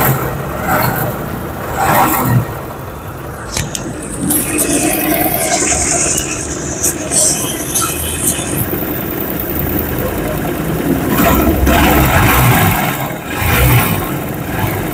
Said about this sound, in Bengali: এবার আমরা ইঞ্জিনের সাউন্ড আপনাদেরকে শোনাবো।